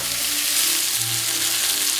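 Pork chops frying in a pan, a close, continuous broadband sizzle holding steady at an even level with no voices.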